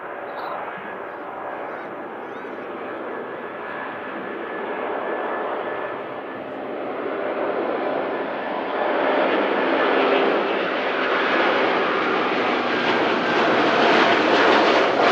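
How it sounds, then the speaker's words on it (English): A Virgin Atlantic jet airliner takes off at Manchester Airport, its engine roar building steadily and growing louder over fifteen seconds as a broad, continuous rumble. "Virgin Atlantic blasting off"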